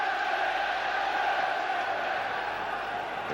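Stadium crowd noise from a 1996 Champions League group match, Manchester United against Fenerbahçe at the start of the second half, a broad distant roar sustained throughout without speech.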